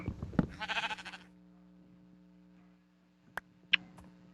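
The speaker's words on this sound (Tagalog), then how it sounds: "May tupa." Sheep bleating in a Minecraft-style one-block survival game, a single clear synthesized bleat near the start followed by two short clicks against steady low game music, no talk.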